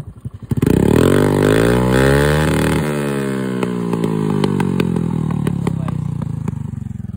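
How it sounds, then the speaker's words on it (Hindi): A modified Honda Activa scooter fitted with an SC Project exhaust revs hard and loud nearby, rising and falling in pitch with sharp crackling pops as the throttle is blipped, no one speaking. "इसलिए मैं इसको नहीं चलाता ये एग्जॉस्ट लगवा के, बहुत लाउड है स्कूटी अपनी"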